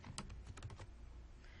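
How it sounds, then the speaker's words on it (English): Quick bursts of keystrokes on a computer keyboard, several close clicks in a cluster, then a quieter stretch, faint and with no talking. "you're going to type in his name."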